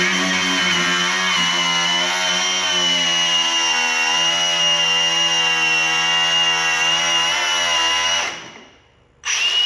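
A grinder cuts into metal on a Mazda MX-5 being built up for off-road use. It gives a loud, steady, high-pitched whine for about eight seconds, drops out briefly, then starts again.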